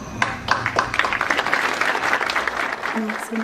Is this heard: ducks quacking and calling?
no